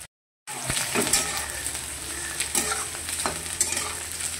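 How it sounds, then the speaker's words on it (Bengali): Onions frying in a pan while being stirred, part of a kachur lati dish with prawns; a steady close sizzle with scraping stir strokes, starting after a brief silence, no talking. "তো বন্ধুরা পেঁয়াজটা হালকা ভাজা হয়েছে"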